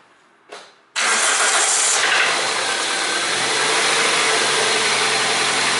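A Toyota VVT-i engine from the 2001–2018 years with a failing bearing cranks briefly with a short starter whir, then catches and settles into a loud, steady, close-up idle with no talking.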